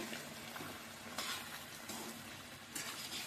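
Spiced chicken fry is mixed in a pan, a soft continuous sizzle with a few sharper scraping strokes as the pieces are turned, quiet and without voices.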